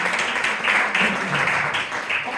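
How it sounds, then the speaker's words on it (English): Audience applause at a comedy hypnotist show at Faversham Fringe, a dense burst of clapping from a live crowd that stays loud and steady throughout. "Give her a big round of applause, ladies and gentlemen."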